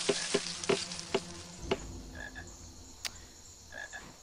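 Sharp croaks from a chocolate frog in the Harry Potter and the Philosopher's Stone video game come several times in quick succession, then thin out among faint chirps and a hissing background, with no talk.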